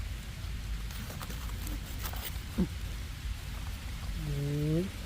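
Rain falls in a forest during mushroom hunting, a soft, continuous hiss of drops on leaves and ground, with a few faint knocks and a brief voice near the end.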